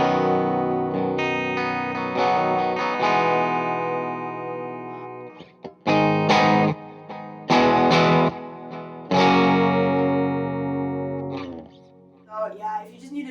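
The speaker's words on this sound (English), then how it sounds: "I use the Dispatch Master. It's a reverb delay pedal." Electric guitar runs through a Dispatch Master reverb and delay pedal, sustained distorted chords ringing loudly with washy echo tails, then choppy stabs with brief gaps and a trailing repeat at the end.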